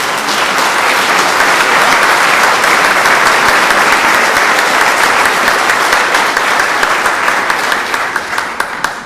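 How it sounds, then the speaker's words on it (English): An audience applauds an orchestra at a cantata premiere, dense loud clapping that holds steady and then thins toward the end into scattered individual claps. "Please give them a round of applause."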